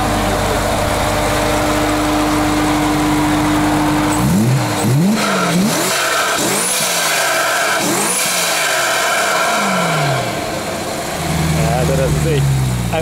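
A G-Power tuned BMW M3 Coupé idles loudly, then the engine is blipped in a series of sharp revs that rise and fall repeatedly before settling, with people talking over it.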